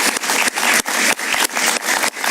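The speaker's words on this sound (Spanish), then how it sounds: "Un aplauso para él, por favor." Studio audience applause greeting a guest on a Spanish-language talk show, a dense clatter of many hands that keeps surging and dropping in short bursts, loud and close with no voices over it.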